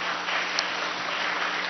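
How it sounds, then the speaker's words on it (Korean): A church congregation claps together in a dense, continuous patter of applause that holds steady throughout. "우리 그분들께 감사의 박수를 한번 듣겠습니다"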